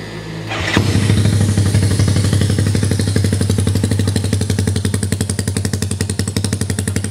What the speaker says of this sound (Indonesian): gue nyalain dulu suara mesinnya seperti ini